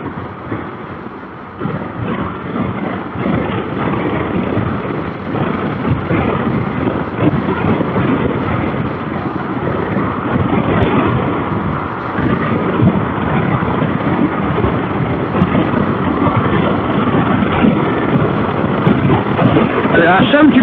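A KTM 390 Adventure motorcycle without a fairing accelerates toward motorway speed, its engine droning steadily and climbing under heavy wind roar for about twenty seconds while a rider talks over it.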